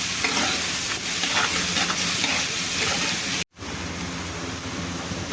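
Banana stem hits hot oil in a pan with bay leaf and chili, giving a loud, continuous sizzle and frying crackle with stirring, cut by a brief silent gap.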